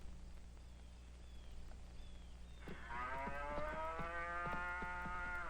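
Cows on a small Mexican farm in a 1961 film: after a quiet stretch of low background hum, a single long, loud moo swells up and sustains with rich harmonic overtones, close by.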